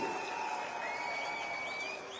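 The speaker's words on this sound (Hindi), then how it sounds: "एक बार जोरदार तालियां हो जाए सर के लिए।" An audience at a Dehradun event applauds steadily, a dense, moderately faint patter of many clapping hands that fades slightly toward the end.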